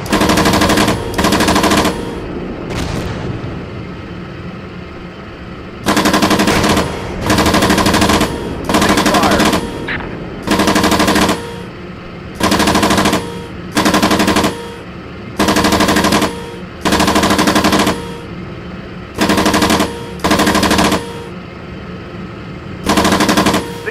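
Bursts of automatic gunfire in the tank combat game Steel Beasts Pro come in repeated loud, close volleys of one to two seconds each, separated by short quieter gaps, with no talking.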